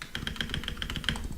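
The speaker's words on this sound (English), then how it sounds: "spam my spacebar like that" Rapid, repeated taps of a computer keyboard spacebar during a parkour speedrun game, close and crisp clicks in an uneven rhythm.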